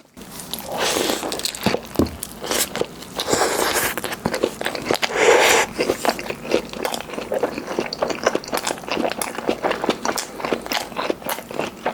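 Someone bites and chews a McDonald's Rich Potato Mushroom Burger up close, making steady crunchy, squishy mastication sounds with no talking.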